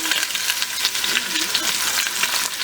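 Oxtail browns in hot oil, giving a loud, steady close-up sizzle with a continuous bright hiss and small crackles throughout.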